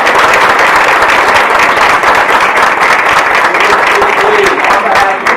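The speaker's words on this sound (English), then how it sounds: "So, just another round of applause." Loud, sustained applause fills a school board meeting room, dense clapping from a large crowd continuing steadily without a break.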